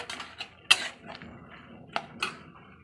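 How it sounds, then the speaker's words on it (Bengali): A utensil stirs green chillies in a cooking pan for a pui shak stem curry, giving a few sharp metallic clinks and light scrapes at an uneven rhythm, close and moderately loud. "এই যে লঙ্কাগুলো দিয়ে আমি এবার নেড়ে চেড়ে নেব"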